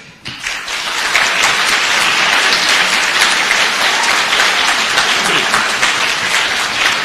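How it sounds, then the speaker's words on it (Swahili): A large crowd applauds steadily and loudly at a test centre opening ceremony in Westlands, Nairobi, a dense continuous roar of clapping and ululation after a brief quiet start. "ndio mnapiga makofi na vigelegele"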